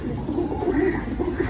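Pigeons offered for sale coo in low, throaty, overlapping murmurs, a close and continuous burble from several birds with no talking over it.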